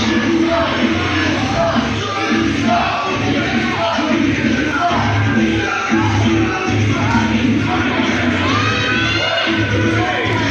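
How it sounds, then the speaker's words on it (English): Wrestling arena crowd at a live show, a steady dense roar of voices and shouts with scattered clapping throughout, loud and continuous without a clear pause. "Just a few people out there clapping for him."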